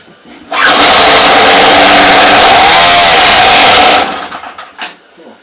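A Stark generator engine is pulled to start with the choke on. It catches and roars loudly for a few seconds, then sputters and dies into a few uneven coughs.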